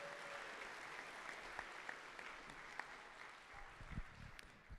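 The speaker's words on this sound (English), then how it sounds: "All of you guys, a round of applause for you" Faint, distant applause from the audience at a miniature painting competition awards session, a soft continuous patter of clapping with a few sharper claps and low thumps near the end.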